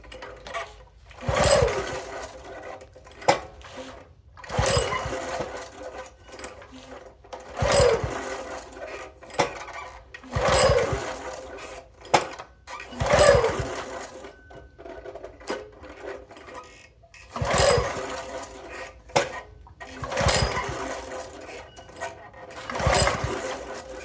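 A Toro SG-6 stump grinder with a Honda GX200 engine is pull-started again and again, each yank a loud rattling burst that fades, repeating at a steady rhythm without catching.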